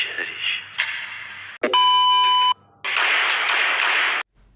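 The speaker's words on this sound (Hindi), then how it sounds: "वहां पे भी बीप आपको सुनाई देगी।" A censor beep covers a swear word in a trailer for the film Daldal: one steady, pure electronic tone lasting under a second, dropped between bursts of loud, busy trailer sound.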